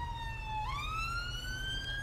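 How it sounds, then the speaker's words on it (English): A police siren wails in the video game GTA 5, from a British patrol BMW M5 in a police mod, shifting pitch partway through and sounding loud and continuous over a low engine hum. "Why do you have your siren on"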